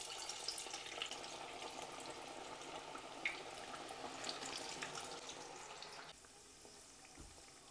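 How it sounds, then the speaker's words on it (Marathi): Kofta balls frying in hot oil give a quiet, continuous crackling sizzle, soft and steady, with the sound easing slightly near the end. "तेल आपलं मस्त गरम झालेलं आहे, तर आता आपण याच्यात आपले कोफ्ते ॲड करून घेऊया"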